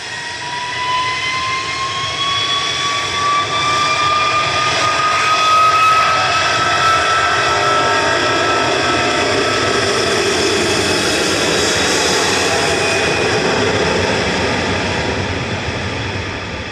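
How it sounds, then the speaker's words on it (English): An RAF Voyager MRTT transport aircraft from the reserve fleet passes at Manchester Airport, its jet engines a loud, steady broadband roar with a rising whine held for the whole stretch and no talk over it. "Another one of the RAF's reserve fleet of Voyager MRTT transport aircraft"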